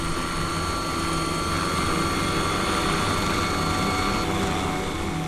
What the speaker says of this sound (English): From the Pol Air helicopter, the flight crew scans the arterials and freeways for anything unusual